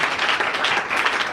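A church congregation claps continuously and fairly loudly for just over a second, an even, dense patter of many hands with no pauses.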